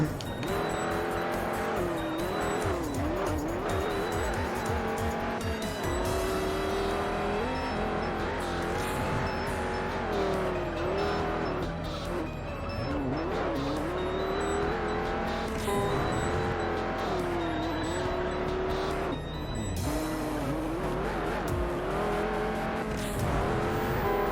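A racing car in the video game Juiced drives hard through a corner, its engine droning and shifting pitch steadily with tire noise underneath, loud and continuous.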